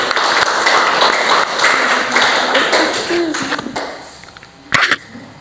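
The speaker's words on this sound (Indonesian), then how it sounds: "Kasih dulu tepuk tangan untuk kelompok 2." Applause from a classroom for a group that has just presented, with a busy wash of clapping from many hands that fades toward the end, with a brief louder clap near the close.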